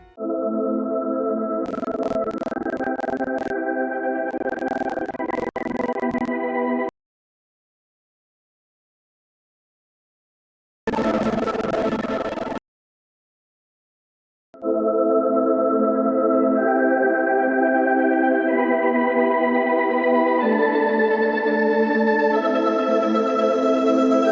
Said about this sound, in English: I've inserted as first a pad that have a low pass on it,